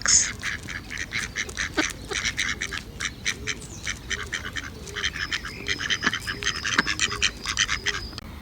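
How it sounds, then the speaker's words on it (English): Mallard ducks quack repeatedly on a pond in a loose, overlapping chorus, with bird chirps mixed in, fairly close and steady throughout. "Mallard ducks."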